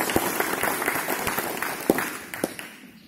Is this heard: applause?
yes